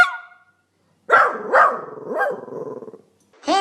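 A dog barks outside, a short burst of several loud, close barks in quick succession after a brief pause, with another bark starting at the end.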